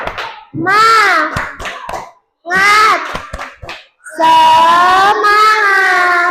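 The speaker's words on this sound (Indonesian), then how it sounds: "Sebelum presentasi kita tepuk semangat." A classroom of children performs a loud spirit clap chant in unison, three energetic chanted phrases separated by short pauses and punctuated by sharp group hand claps.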